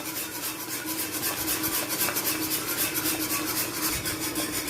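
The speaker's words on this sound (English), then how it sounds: "So now I'm adding the cornmeal little at a time and keep stirring" A spoon steadily stirs and scrapes cornmeal in a cooking pot as sweet corn coo coo thickens, giving a continuous close rasping, rubbing sound with no talking.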